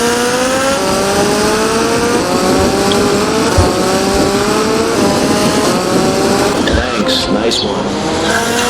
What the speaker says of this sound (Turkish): Ben motora bindik ya. Asla düşmezsiniz motorda.